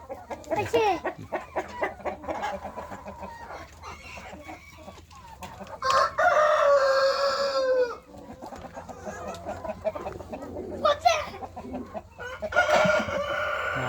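Fancy-breed hens cluck and squawk close by, and a rooster crows loudly partway through, with a few brief voices in the background.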